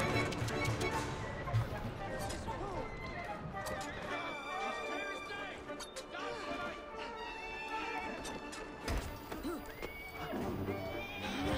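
A horse in the video game Assassin's Creed Syndicate whinnies several times amid clip-clopping hooves and busy street game sounds, with a person talking throughout.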